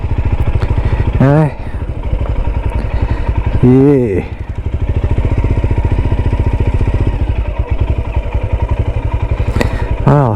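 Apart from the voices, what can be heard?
motorcycles running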